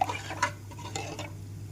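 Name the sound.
stirring ragi porridge cooking in a pot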